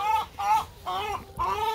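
Chickens cluck close by on a snowy day, four short bursts of throaty clucking one after another.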